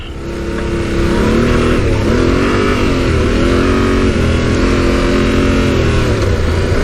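Adventure motorcycle engine droning loudly and steadily while riding on a sandy trail, rising in pitch over the first second and then holding a sustained revving note close up.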